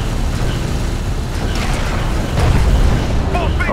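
A light attack vehicle blows up during desert combat in Homeworld: Deserts of Kharak, a dense rumbling burst with mechanical clatter and creaks, loud and continuous, swelling toward the end amid a busy battle mix.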